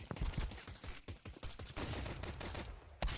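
Gunfire in a tactical shooter video game, with rapid bursts of shots in quick rhythmic strings and a few louder single cracks, fairly close and dense, no talk over it.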